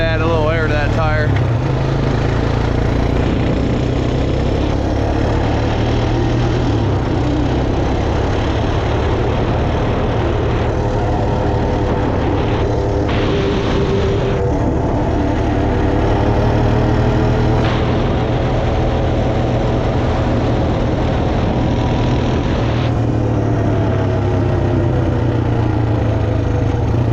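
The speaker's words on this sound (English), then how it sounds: "Honda 250 Recon." A rebuilt Honda TRX250TE Recon ATV engine idles steadily and loudly up close, a continuous even putter running unbroken from start to finish.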